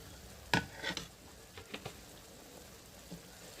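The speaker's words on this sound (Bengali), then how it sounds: "এরপরে আমি মশলাটাকে ভালো মতো কষিয়ে নেব।" Turmeric and spices are stirred and fried in a pan over a wood-fired stove for a country chicken curry, giving a few sharp scrapes and clinks over a faint, low sizzle.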